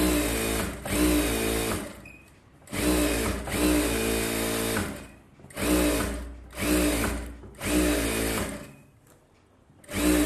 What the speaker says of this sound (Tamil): அதே மாதிரி இந்த பக்கமும் சுற்றி தையல் போட்டுருங்க